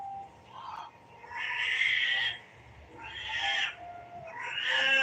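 A house cat meowing indoors, several drawn-out, wavering cries repeated close by at a moderate level, each rising and falling, with short quiet pauses between them.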